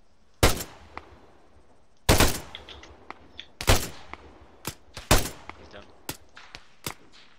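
Gunfire in Arma 3: sharp, separate rifle shots at uneven intervals, a few heavy close reports mixed with lighter distant cracks, each followed by a short echoing tail.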